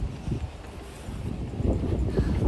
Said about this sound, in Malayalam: പിന്നെ കാറ്റുണ്ട്, ഇപ്പം ഇച്ചിരി കാറ്റ് അധികമായിട്ടുണ്ട്.